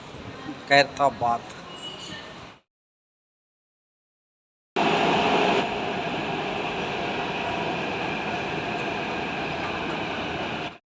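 A brief voice, then a pause, then a steady, loud rumble and hiss of a Hyderabad metro train at an elevated metro station, holding constant for several seconds.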